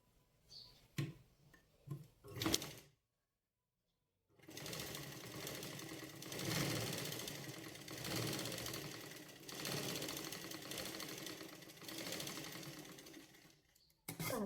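Sewing machine stitching a sleeve seam, a few short clicks and taps first, then after a pause a long, steady, fast-ticking run of stitching that fills most of the clip, close and clear.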